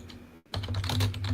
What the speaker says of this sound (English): Danny types hard on her keyboard.